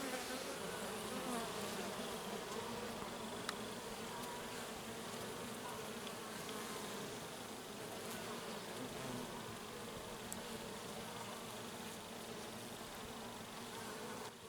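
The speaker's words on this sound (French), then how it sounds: "Des abeilles qui s'entretuent toutes seules entre elles quoi." A dense swarm of honeybees buzzes continuously up close, a steady droning hum with individual bees flitting past, lasting throughout, as an Asian hornet preys on them.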